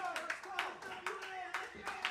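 A wrestling crowd at a live SWA match claps in scattered bursts, steady and close, with the crackle of applause mixed under a commentator's voice.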